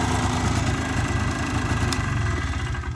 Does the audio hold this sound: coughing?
no